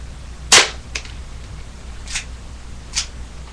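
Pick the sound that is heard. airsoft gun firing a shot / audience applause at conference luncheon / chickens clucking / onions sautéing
airsoft gun firing a shot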